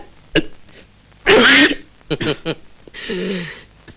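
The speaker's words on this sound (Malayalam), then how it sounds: "ഒരിക്കൽ കൂടി ചുമക്കൂ." A person coughs once near the mic, a loud harsh burst between short vocal sounds and throat noises.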